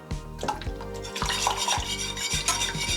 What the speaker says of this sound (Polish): na początku mieszam sobie rózgą